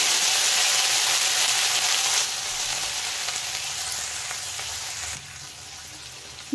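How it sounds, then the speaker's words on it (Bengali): Small prawns fry in hot oil in a kadai, making a loud, close, continuous sizzle that gradually softens over a few seconds, with no talk. "তেল গরম হয়ে গেছে, এখন আমি তেলের মধ্যে দেখেন দিয়ে দিলাম কিছুটা কুচো চিংড়ি।"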